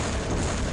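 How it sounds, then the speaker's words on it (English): A grenade explosion in the game Soldier of Fortune 2: Double Helix, a dense, sustained roaring blast filling the brief moment loudly with no talking. "That means a grenade is flying somewhere."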